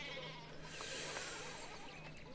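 Sheep bleating in the medieval video game Pentiment, a steady run of nasal bleats over a constant background, close and clear, with no talking.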